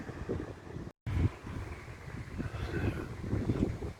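Steady wind buffeting the microphone with low rumbling gusts on a cloudy day at Bestwood Country Park, broken by a brief dropout near the start, continuing loud and uneven to the end.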